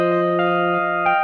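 A Yamaha EX5 synthesizer playing its Low Distortion patch: a sustained, buzzy distorted tone holding steady chords, with brief articulations and a slight swell near the end, loud and alone.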